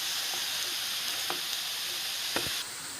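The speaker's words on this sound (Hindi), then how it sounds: "अब हम थोड़ी देर घी में गाजर को भूनेंगे।" Carrots frying in ghee in a pan for carrot halwa, a steady close sizzle with a few faint scrapes from stirring, no voices.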